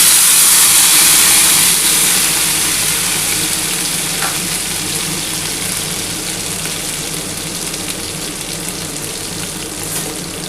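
Ground cauliflower leaf paste poured into hot oil on a lowered gas flame sizzles loudly and close, the crackling hiss easing gradually over time, with a faint scrape and no speech.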